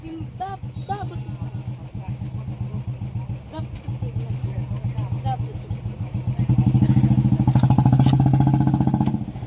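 A motorcycle being started with the key and kick: the engine runs with a steady, close rumble, then revs up louder near the end while people talk over it.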